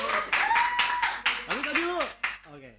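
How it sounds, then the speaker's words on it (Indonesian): A small group claps in a casual talk-show setting, a run of sharp close hand claps mixed with people speaking and laughing over them. "Tepuk tangan lu, tepuk tangan lu."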